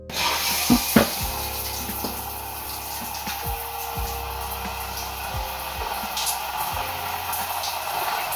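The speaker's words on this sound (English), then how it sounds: "Washing my hair now." Tap water runs steadily throughout while hair is being washed, with a few soft knocks and splashes near the start and no talking.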